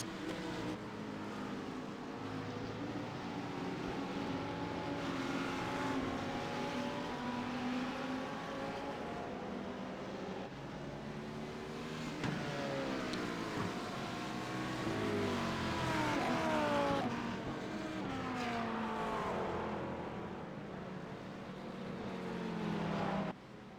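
GT3 race cars circulate behind a safety car in the early laps at Okayama in a racing game, their engine notes droning and shifting pitch continuously at moderate loudness with no talk.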